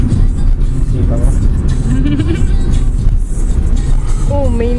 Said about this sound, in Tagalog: Oh, may sasakyan pa. Oh, harurot pa.